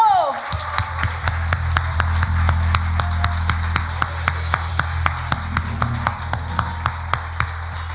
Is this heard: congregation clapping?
yes